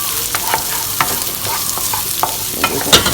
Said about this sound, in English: Sizzle in. I love that sound onions make.